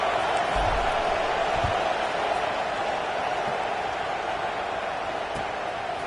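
A football stadium crowd after an extra point makes a steady, distant roar of murmuring and scattered applause, continuous and fairly subdued throughout.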